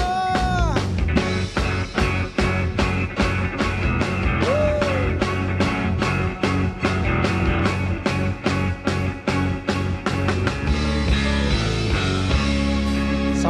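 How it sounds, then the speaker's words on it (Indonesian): A church congregation at a worship service claps hands together in a steady, loud rhythm of many sharp claps, running continuously over sustained music. "Mari tepuk tangan sama-sama saudara."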